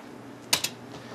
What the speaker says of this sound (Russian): мы набираем адрес